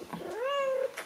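A pet cat named Lola gives a single clear, drawn-out meow close by, rising then holding steady for about half a second, with faint rustling around it and no talking.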